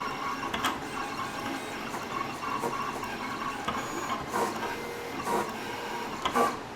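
A Siser Romeo cutting machine works through material, its carriage whirring and clicking in an irregular mechanical pattern, moderately loud and close, without speech.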